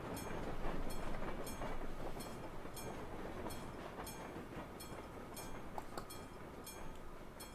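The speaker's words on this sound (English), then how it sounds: "That train looks like it's moving slower than usual as well." A train rolls past in Euro Truck Simulator 2, a steady broadband rumble with regular clickety-clack wheel beats along the rails, loudest early on and holding fairly constant, with no talk over it.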